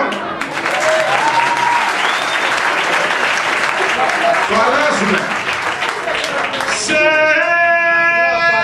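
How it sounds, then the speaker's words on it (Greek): Live audience applause at a music show, loud dense clapping from a crowd filling the space nearly throughout, with faint voices and musical tones rising near the end. "χειροκρότημα."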